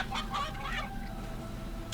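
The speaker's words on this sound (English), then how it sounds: "I'm afraid you will never score if you can't kick the chickens into the right area" Chickens in the video game Fable Anniversary's chicken kicking minigame cluck in a few quick bursts near the start, then fade under a low background hum.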